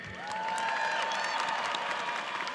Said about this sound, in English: Let's cheer for Casey again.